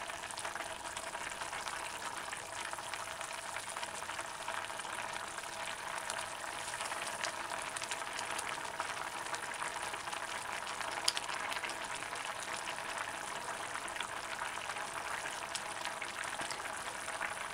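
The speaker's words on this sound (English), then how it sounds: "Leave the saucepan open and just allow the water to evaporate and thicken the gravy" Jerk chicken brown stew simmers in an open saucepan with the gravy thickening, giving a constant fine bubbling hiss, even and moderately quiet throughout, with no voices.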